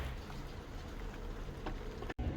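Light, wet mix of snow and rain falling steadily outdoors by a parked Rover 25, giving a soft continuous patter and hiss, with a brief sharp dropout near the end.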